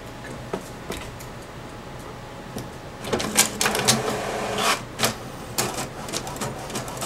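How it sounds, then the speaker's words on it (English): A printer whirs and clicks through a page, with irregular mechanical ticks and rattles that grow busier partway through, fairly quiet and nearby. "you select your printer, and you just push print"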